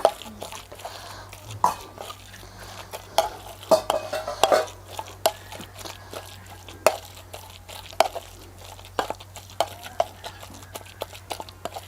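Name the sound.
mixing green chilli in a pan for bharit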